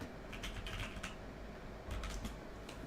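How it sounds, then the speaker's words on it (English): Someone types on a computer keyboard close by, two quick rattling bursts of keystrokes separated by a short pause, with no speech. "I'm just typing Tim Rogers"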